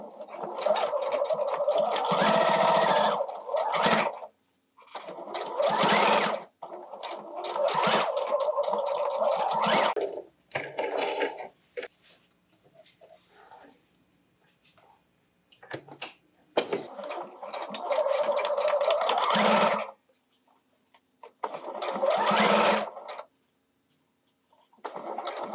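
A sewing machine stitches a 3D fabric face mask with adjustable elastic, running loudly and close in several whirring bursts of a few seconds each, separated by short pauses and quieter handling sounds.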